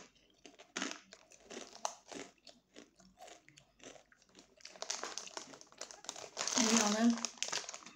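A bag of Doritos Flamin' Hot chips crinkles and crackles in bursts close to the microphone, getting louder and more continuous toward the end, while a person talks.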